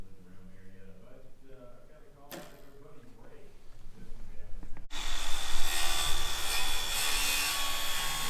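A cordless saw cuts through wood during roof fascia and decking work, starting quietly then biting in loudly around the midpoint and running as a harsh, steady rasp close by.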